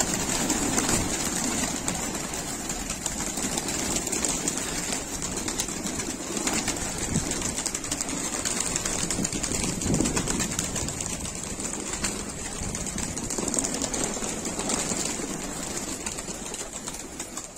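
High-flyer pigeons released from a loft in Moradabad, India, fill a long stretch with a dense, continuous wash of wing flutter and faint cooing, steady and fairly loud, with no clear voices.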